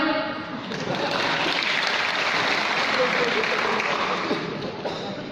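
Audience applause at a stand-up comedy show in Banda Aceh, a loud, dense wash of clapping from a large crowd, sustained evenly for several seconds with a faint voice underneath.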